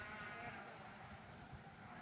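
A natural colored buck lamb bleats in the show ring at a Northeast youth sheep show, heard faintly and briefly against an indoor arena hum and a distant announcer's voice.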